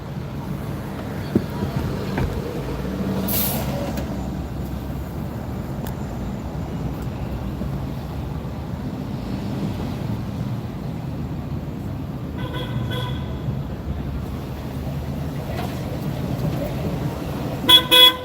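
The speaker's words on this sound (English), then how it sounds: "Let me lower the window so you can hear the sounds of the city." New York City street traffic heard from inside a car with the window lowered: a steady rumble of engines and road noise, with several car horn toots, the clearest at the start and two short honks near the end.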